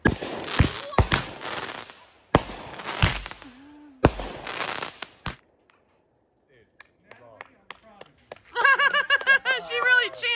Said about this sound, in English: You want the last firework now? See the fireworks!